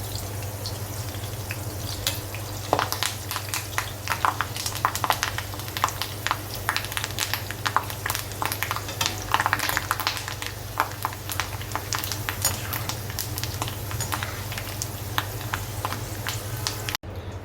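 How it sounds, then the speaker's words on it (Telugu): Green chilies and curry leaves sizzle steadily in hot oil in a pan for cabbage 65, a close continuous frying crackle with occasional stirring scrapes and no talking. "పచ్చిమిరపకాయలు కొద్దిగా ఫ్రై అయిన తర్వాత ఇందులో కరివేపాకు కూడా వేసుకోవాలి."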